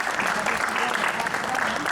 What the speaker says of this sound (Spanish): Yo pido un aplauso para ellos